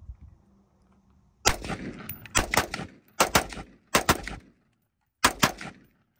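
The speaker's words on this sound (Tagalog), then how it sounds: "Ito yung baril ni Kabayan na to is bagong-bago ito" Several sharp, loud 7.62 rifle gunshots with 145-grain ammunition ring out in irregular pairs and bursts at an open-field shooting range, each with a short echo, against a quiet outdoor background.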